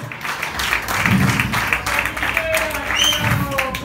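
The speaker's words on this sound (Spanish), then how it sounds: "Fuerte aplauso, Paladito." An audience claps and cheers after a rock band's live cover of a song, the applause dense and lively, with voices and a few whistles or shouts mixed in over the crowd.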